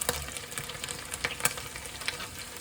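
Small onions fry in a pan for a curry made from jarred sauce, a close crackling sizzle broken by quick clicks and scrapes of stirring, with no one talking.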